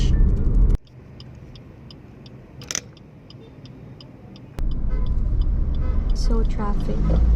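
A manual transmission car drives through city traffic in Cebu, Philippines; a low engine rumble drops away sharply, leaving a quiet interior hum with faint tonal sounds, then the rumble swells back up loud and steady.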